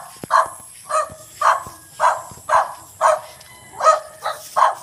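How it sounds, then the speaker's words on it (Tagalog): A dog barks about ten times in a steady, evenly spaced series, close and loud, with no talking over it. "Yung aking aso napakaingay."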